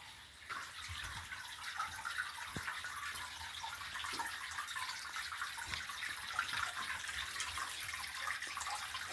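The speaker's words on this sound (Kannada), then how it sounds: "ಬೆಟ್ಟ ಗುಡ್ಡಗಳಿಂದ ಇಳಿಜಾರಿನಿಂದ ಬಂದಂಥ ಶುದ್ಧ ನೀರು ಇದು" Clean water runs down from the hills in a continuous rushing, splashing stream, steady and fairly near, with no voices over it.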